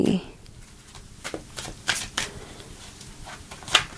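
Tarot cards are handled and shuffled in short crisp riffles and flicks, a few scattered bursts close by, with a voice speaking at times.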